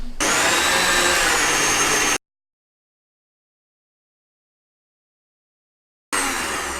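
Electric mixer beating a dough of eggs and flour, a loud steady high whirring drone that cuts out to silence for several seconds, then starts again.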